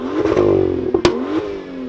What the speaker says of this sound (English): this BMW M2 is very well known for its distinctive overrun sound